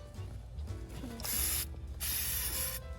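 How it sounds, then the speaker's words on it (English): Two sustained hissing bursts from a spray can over fruit trees, each lasting under a second, with a faint mechanical clicking and low rumble around them. "Spray it all over real good."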